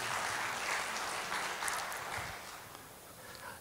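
A congregation at a GBI church service in Situbondo claps in a steady, diffuse wash of applause that gradually thins out and fades toward the end.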